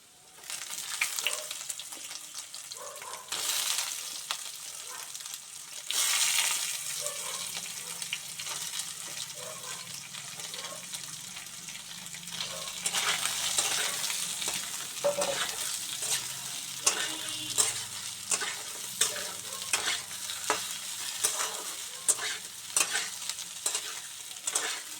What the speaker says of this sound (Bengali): আলু আর সয়াবিনটাকে ভালো করে ভেজে নিয়ে